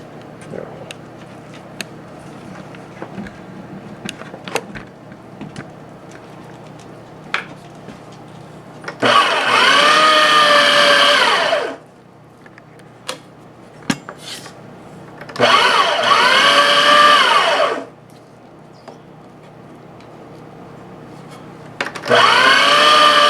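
An electric meat grinder grinds chuck roast, its motor whirring loudly in three separate runs of a few seconds each, with quieter handling and clatter between them.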